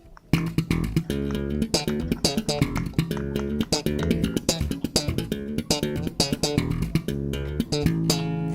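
A distorted electric guitar plays a chugging riff of sharp palm-muted hits and ringing chords in a steady, driving rhythm, loud and close.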